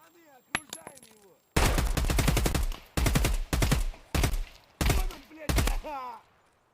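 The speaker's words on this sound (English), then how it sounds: "Is he just panic firing?" Automatic gunfire in Escape from Tarkov rings out in several loud, rapid bursts separated by short pauses, preceded by a few isolated shots and faint game sounds.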